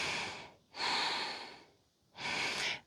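Three deep, steady breaths during a yoga warrior pose outdoors in the mountains, close and clear, each a long airy inhale or exhale separated by short quiet gaps, with no talking.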